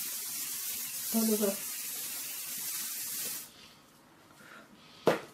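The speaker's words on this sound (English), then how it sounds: "I just spray this Tame and Shine from VO5" VO5 Tame and Shine hair spray is misted from a can in a long steady hiss close by, then stops, with someone speaking briefly over it.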